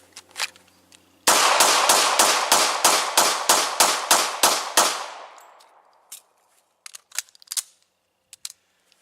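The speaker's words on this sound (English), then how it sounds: "So let me go ahead and get into shooting." Rapid string of about a dozen loud .40 caliber shots from a SIG 229 pistol, evenly spaced and close, followed by echoing decay and a few faint clicks and handling noises.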